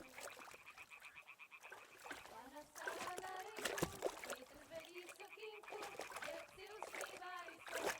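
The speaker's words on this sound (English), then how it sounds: "Throw a stone in the water near her to lure her away." In Kingdom Come Deliverance II, a thrown stone splashes into water amid croaking frogs and watery ambience, with voices talking over it.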